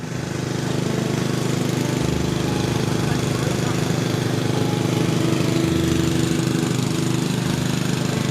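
A petrol engine water pump drains a fish pond, a loud steady droning chug that runs unbroken from start to end with a slight throb in its rhythm.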